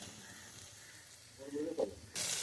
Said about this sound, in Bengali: পেঁয়াজ, কাঁচা লঙ্কা আর বরবটিগুলো দিয়ে দেওয়া হলো। এবার এগুলো আস্তে আস্তে ভাজা হবে।